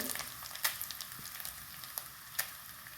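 Grated coconut roasting in coconut oil in a pan for a chicken curry, a soft steady sizzle with occasional sharp crackles and pops, close and fairly quiet.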